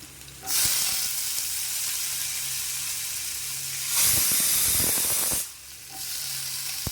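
Soaked bitter gourd drops into a hot pan and erupts into a loud, bright sizzle that swells, fades briefly, then surges again around the middle before settling into a steadier hiss, with no talking.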